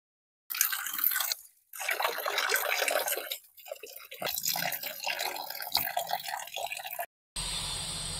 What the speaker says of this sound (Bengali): এবার আমি পরিষ্কার করে ধুয়ে নিয়ে আসি